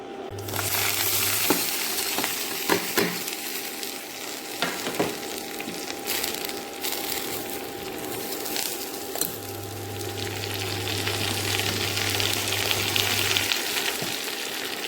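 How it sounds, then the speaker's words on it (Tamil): Onion and tomato frying in sesame oil, a steady soft sizzle with scattered clicks and scrapes of stirring and a faint low hum in the background. "நல்லெண்ணெய் காஞ்ச உடனே வெங்காயம் தக்காளி பழம் இதை வந்து நம்ம வறக்கணும்"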